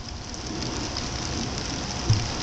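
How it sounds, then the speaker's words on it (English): Steady rain falling at a lake camp, a dense close hiss of drops hitting surfaces with a small thump near the end. "Rainy"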